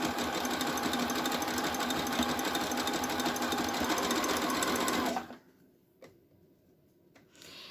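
A sewing machine runs a long zigzag stitch on a yarn cozy, a steady fast mechanical whir and ticking for about five seconds, then stopping, with a few faint clicks after.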